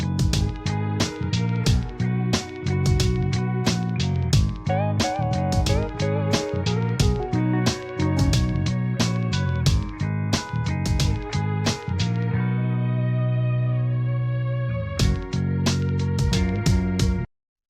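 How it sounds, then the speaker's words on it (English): Alternative rock track with bass guitar, electronic drums and layered multi-track guitars, playing loud and dense throughout, with a brief sustained break near the end before the full band returns. "So what I have here is our alternative rock track."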